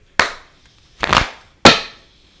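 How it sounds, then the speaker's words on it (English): Three sharp, loud bangs of a deck of tarot cards struck against a table, each a hard slap with a quick decay, spaced unevenly and heard alone. "I tend to bang my cards, so RIP headphone users."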